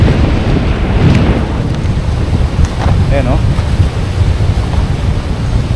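A strong river current rushes where the river meets the sea, a steady broadband roar mixed with wind buffeting on the microphone, with a brief voice heard over it.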